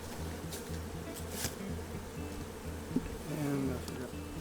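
Honeybees from a treatment-free beekeeper's hives drone in a steady, close buzz during a honey harvest as supers are pulled, with faint voices and a few brief knocks and clicks mixed in.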